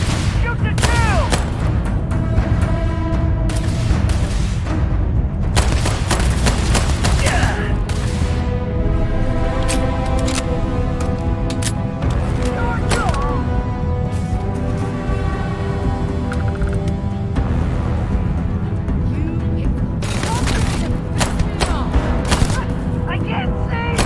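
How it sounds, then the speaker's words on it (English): Heavy gunfire in the sci-fi game Starfield, with dense bursts of shots and booming impacts that go on through the whole stretch, loud and close, with a voice talking underneath. "Shoot to kill."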